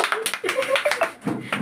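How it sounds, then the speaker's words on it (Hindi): Children clap their hands in a Sunday maths class, a quick run of sharp, fairly close claps in a brief burst, with a few voices mixed in. "ताली बजाओ"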